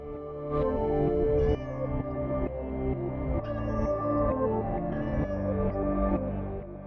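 A cat meows repeatedly, a string of close, fairly loud, drawn-out tonal cries with short gaps between them and no talking.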